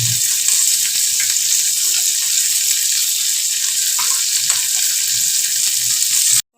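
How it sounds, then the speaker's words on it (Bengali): Sweet corn kernels frying lightly in a pan, giving a loud continuous sizzle with faint stirring clicks, alone without talk until it cuts off at the end. "সুইট কর্নগুলো দিয়ে জাস্ট একটু হালকা ফ্রাই করে আমি দিয়ে দেবো ওটস"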